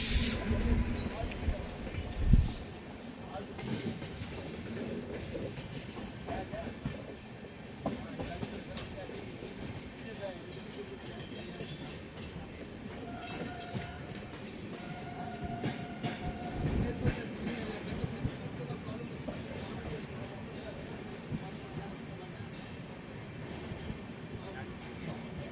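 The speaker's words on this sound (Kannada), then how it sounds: "ನಮ್ಮ ಟ್ರೈನ್ ಈಗ ಕೆಂಗೇರಿ ರೈಲ್ವೆ ಸ್ಟೇಷನ್ ಒಳಗೆ ಎಂಟ್ರಿ ಆಗ್ತಿದೆ ಪ್ಲ್ಯಾಟ್ಫಾರ್ಮ್ ನಂಬರ್ 2ಕ್ಕೆ" Chamundi Express train pulling into Kengeri railway station, heard from on board: a steady low rumble of the rolling train with occasional clanks, soft hiss and faint brief tones, and a sharp jolt near the start. No one speaks.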